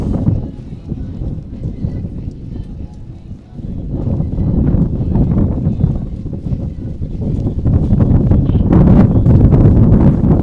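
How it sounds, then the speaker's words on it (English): Wind gusts across an outdoor archery range at a recurve junior women's match, a steady low roar buffeting the microphone that swells louder in the second half, with no clear talk. "you can definitely hear that wind picking up today"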